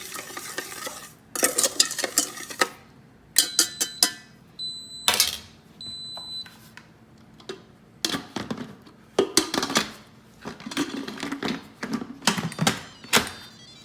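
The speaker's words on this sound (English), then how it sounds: "now I'm gonna give this a quick stir" A spoon scrapes and clatters against a pot while almond fudge (badam burfi) mixture is stirred in a pressure cooker. It comes as a series of quick, close, irregular bursts separated by short pauses, with a couple of brief electronic beeps.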